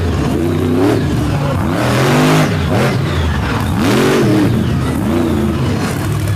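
A big monster truck engine from Columbus, Michigan revs loud and close at a rain-delayed Fowlerville event, its pitch repeatedly rising and falling in rhythmic swells with no talking.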